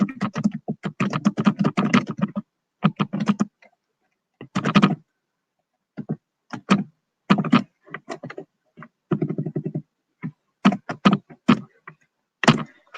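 Bursts of quick key presses on a computer keyboard, clattering in uneven runs with short pauses between them, close and clear with no voices.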